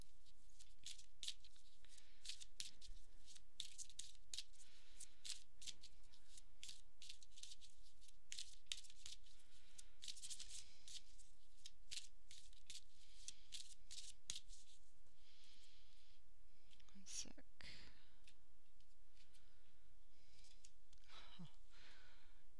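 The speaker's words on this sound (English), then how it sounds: "I would like you to think about it while I shuffle the Angel Answers cards" Soft, rapid riffling and flicking of Angel Answers oracle cards in bursts, close by, with faint rustling and small taps between runs; no talking.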